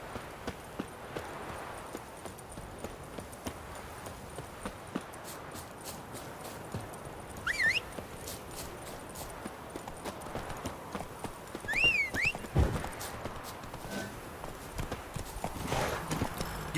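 Horse hooves clip-clopping steadily at a walking pace in The Witcher 3, a continuous rhythmic patter near and clear, with a couple of whinnies or calls rising briefly around the middle and later.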